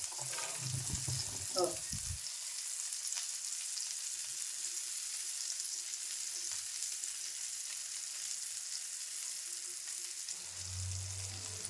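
Prawns frying in a pan for a Malvani-style dish, a continuous sizzle that fills the whole stretch, close and steady, with a voice talking over it at the start and near the end.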